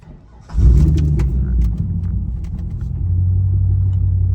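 A Subaru WRX engine rumbles nearby, a loud low throaty drone rising in level as the car pulls past, steady and deep through the end.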